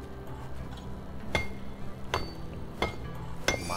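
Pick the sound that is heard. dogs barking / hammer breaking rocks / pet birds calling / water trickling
hammer breaking rocks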